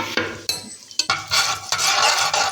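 Cumin seeds crackle and sizzle in a few spoonfuls of hot oil in a pressure cooker, with a spoon stirring and scraping against the metal pot in sharp, irregular bursts, close and fairly loud.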